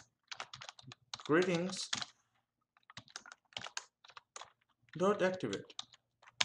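Quick clatter of typing on a computer keyboard, light close key taps in short bursts while a person talks over and between them.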